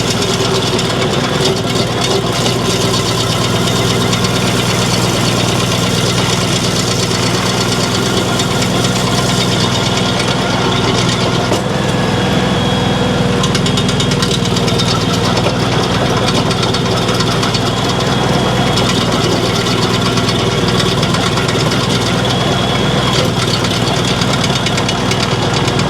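A Mech Maxx SG-24 stump grinder engine runs loud and close, with a steady mechanical roar and a knocking vibration that holds unbroken throughout, with no voices.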